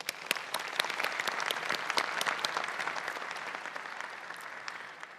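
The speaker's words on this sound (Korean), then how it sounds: "함께해 주신 모든 분들께 큰 박수 부탁드리겠습니다" A large crowd claps steadily and densely for several seconds at the rollout ceremony of the KF-21 Boramae fighter jet, the applause loud at first and easing slightly toward the end.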